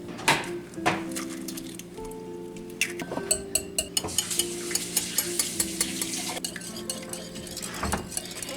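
Four eggs whisked in a bowl for a blueberry waffle bake, a steady run of rapid, close utensil clicks against the bowl.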